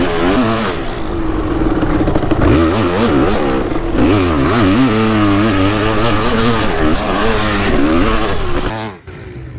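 Kawasaki KX500 two-stroke dirt bike engine revving hard and loud up close, with rising and falling pitch sweeps through repeated throttle blips, dropping away abruptly at the end.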